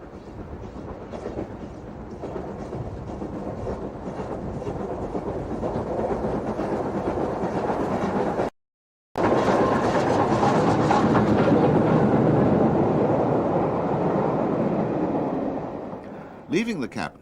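A steam train pulls out of Edinburgh Waverley through the cutting in Princes Street Gardens, a loud, sustained rumble of chuffing and rolling wheels that swells and holds, broken by a brief gap partway through.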